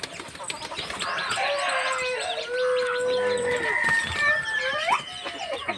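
Chickens on a farm cluck and call in a run of close, overlapping squawks and rising notes, with a rooster-like cry among them and rustling underneath.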